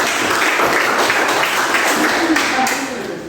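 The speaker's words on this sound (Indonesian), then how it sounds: "kita berikan tepuk tangan dulu untuk kelompok" A classroom group gives applause for a presenting student group, a dense burst of hand clapping that fills the room for a few seconds and then tapers off near the end.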